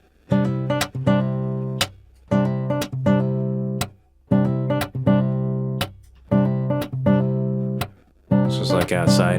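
A picked nylon-string guitar sample heard through a preamp repeats a short phrase of plucked notes several times, each cluster ringing briefly before a gap, ending in a denser, busier burst.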